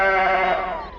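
A bighorn sheep in the Sierra Nevada gives a single drawn-out bleat, loud and close, with a wavering nasal tone that fades toward the end.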